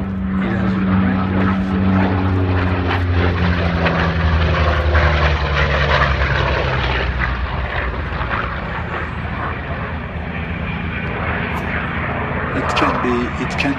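A B-25 bomber flies past at an air show, its piston engines and propellers making a steady, loud droning roar that holds throughout and slowly shifts as the aircraft moves.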